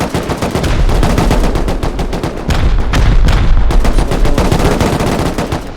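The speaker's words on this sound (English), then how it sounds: "Somebody's still going through with rockets" Rocket explosions pound a base in the survival game Rust during a 6v6 tournament raid, dense loud blasts and gunfire-like bursts following each other almost continuously.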